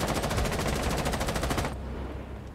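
An enemy's gun in a video game fires a continuous rapid burst, loud and close, the rattling stream cutting off abruptly near the end and leaving a duller residual rumble.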